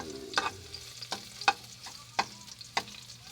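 Garlic sautéing in a pan hisses softly while a utensil scrapes and clicks against the pan in a run of sharp, evenly spaced strokes, close by, with no one talking.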